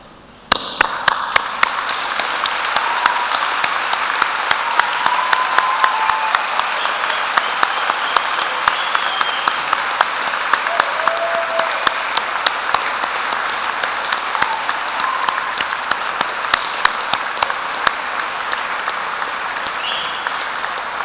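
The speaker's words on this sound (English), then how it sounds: "the graduates stand and show their appreciation by clapping hands for your team" Graduates and audience at a graduation ceremony clap hands loudly and continuously for over twenty seconds, a dense close wash of applause with sharp individual claps standing out.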